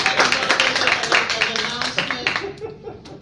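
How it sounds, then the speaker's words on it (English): Audience applause for a podcast guest at a live event, a burst of clapping that fades out after about three seconds, with a few voices mixed in. "Let's give them a round of applause."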